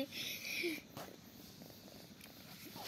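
A pet cat settling toward sleep purrs softly and close, a faint low rumbling texture running under quiet room noise with a brief higher squeak near the start.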